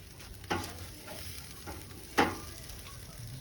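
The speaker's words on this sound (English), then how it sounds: "See what I put on the grill now." Jerk pork sizzles on a grill, yard style: a constant crackling fry broken by two sharp clanks or pops, with no talking.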